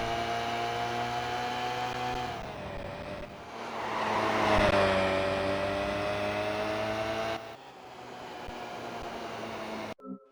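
Race car engine in Gran Turismo PSP lapping Suzuka through the S-curves, a steady droning whine that dips and rises with throttle, heard alone at moderate loudness before cutting off abruptly at the end.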